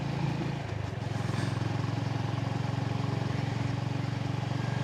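A motorcycle engine running steadily with a fast, even low-pitched thrum, heard close up on a ride, with a brief rougher burst at the start before it settles.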